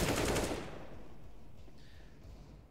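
Automatic rifle fire from a CS:GO match on the Mirage map: a loud, dense burst of rapid shots at the start that quickly fades into a quieter, steady background.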